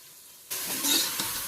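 Mint and coriander leaves for Ambur biryani hit a hot pan and sauté with a sudden loud sizzle, a steady frying hiss continuing with faint stirring scrapes.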